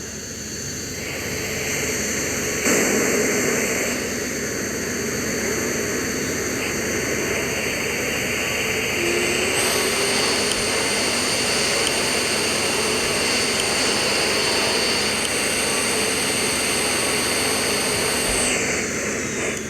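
A jet airliner touches down and brakes on the runway at Bangkok's airport, heard as a loud, steady, broadband roar of engines and rushing air that holds for the whole span, with a brief surge early on.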